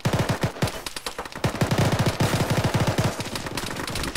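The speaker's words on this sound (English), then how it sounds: "God, I'm getting shot at." Rapid bursts of automatic gunfire in a military video game, dense overlapping shots and rattling fire, close and loud with no talking.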